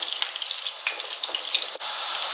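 Rinsed, salted aubergine slices fry in a pan with a steady, dense crackling sizzle, close and continuous with small pops throughout and no voices.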